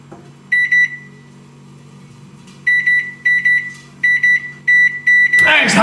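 Microwave oven humming steadily, then giving a short run of beeps followed by several more groups of repeated beeps, loud and close, with a rustle at the end.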